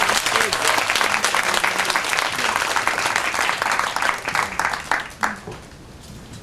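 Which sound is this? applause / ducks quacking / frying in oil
applause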